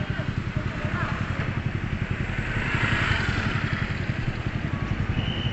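A motorcycle engine chugs in a steady idle rhythm, rising slightly in the middle, while people talk nearby.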